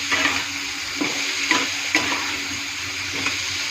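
Food being stirred and mixed in a frying pan, with a steady sizzle under repeated scraping strokes of the spoon across the pan about every half second, close and fairly loud, with no talking.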